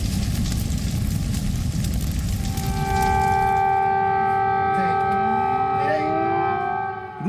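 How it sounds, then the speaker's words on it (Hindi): Air raid sirens wail across Ukrainian cities such as Kyiv and Odesa, long rising tones sweeping over heavy rumbling noise, sustained and loud throughout. "कीव और ओदेसा समेत कई शहरों में सायरन बजे"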